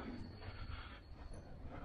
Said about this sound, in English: Wouldn't that be nice, listening to the train every day?